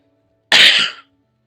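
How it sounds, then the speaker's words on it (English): A single short, sharp cough bursts out near and loud, about half a second long, set against near silence with a faint low hum. "That was a cough, but thanks."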